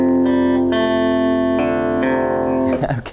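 An electric guitar with effects and reverb plays a riff as a series of ringing plucked notes that sustain into each other, closing with two lower bass notes that fade out.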